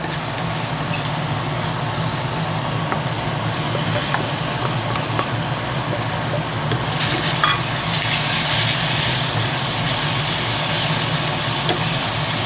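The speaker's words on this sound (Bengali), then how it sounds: "চিংড়ি মাছটা দিয়ে দিচ্ছি।" Prawns fry in a hot pan with a steady, close sizzle that runs unbroken, occasional stirring scrapes and a slight brightening of the spatter partway through.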